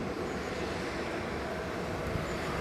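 A Jet2 Boeing 737 airliner taxis at Leeds Bradford Airport, a steady broadband engine roar heard from a distance, unbroken and fairly loud for the whole stretch.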